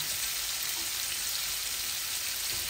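Pieces of rohu fish, bought frozen, frying in a pan of oil, a loud, steady, close hiss of sizzling that fills the whole stretch without pause.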